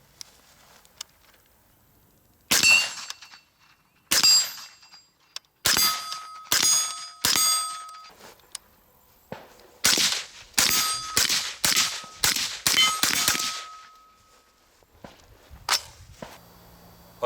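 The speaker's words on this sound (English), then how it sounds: "And the cool thing is, it runs with a suppressor too." A suppressed MR223A3 clone rifle fires a series of sharp cracks with metallic clangs, first single spaced shots, then quicker strings of rapid shots, each loud and close against a quiet background.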